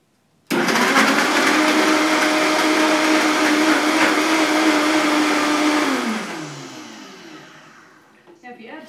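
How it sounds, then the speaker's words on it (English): Blender whirring through strawberries for a raw vegan smoothie, a loud steady motor roar starting abruptly, holding for several seconds, then winding down as the blades slow. "Sometimes it's a little easier to blend up the strawberries first,"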